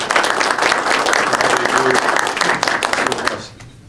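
An audience at a legislative breakfast applauds the panelists in a round of dense clapping that runs for several seconds and then quickly tapers off near the end.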